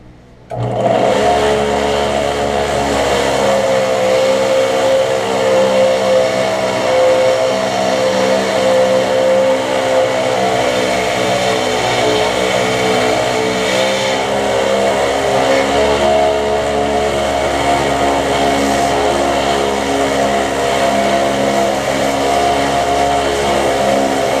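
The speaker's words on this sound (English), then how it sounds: "I'm going to square them off on the big sander here." A loud belt sander runs continuously with a steady grinding roar, its pitch wavering slightly as metal knife blanks are pressed against it and squared off.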